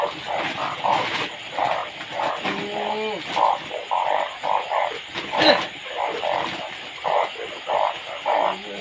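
Frogs croaking at night during a frog hunt, a dense chorus of repeated croaks and calls close by, rising and falling in pulses with a few louder nearby croaks.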